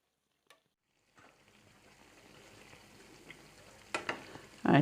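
Sweet bonda frying in oil on a low flame, a soft steady sizzle that starts after a faint click and grows slightly, ending in louder clatter from handling the pan, no speech.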